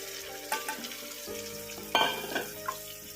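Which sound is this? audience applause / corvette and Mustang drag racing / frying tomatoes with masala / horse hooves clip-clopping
frying tomatoes with masala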